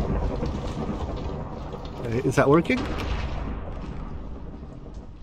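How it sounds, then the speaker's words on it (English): Thunder from lightning strikes in the Minecraft modpack FTB Infinity Evolved Skyblock: a steady rumbling wash with a louder crackling burst in the middle, heard under a man's speech. "this is going to be such a disaster with all the lightning happening"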